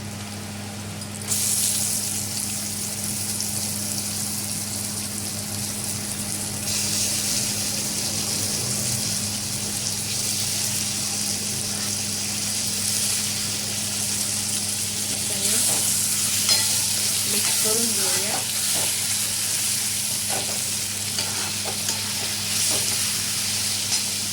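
Onion and tomato sizzle and fry in a pan for a prawn biryani, with a steady hiss over low heat and intermittent scraping as the mixture is stirred close by.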